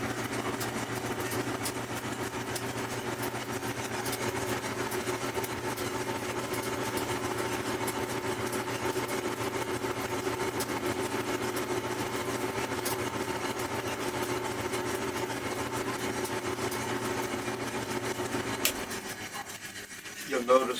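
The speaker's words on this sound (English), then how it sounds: "I just turned off the flame and turned on the blower" A Kaldi home coffee roaster's blower runs with the flame off, a steady broadband whoosh with a low motor hum that holds at an even level and then drops away near the end, with a few faint clicks.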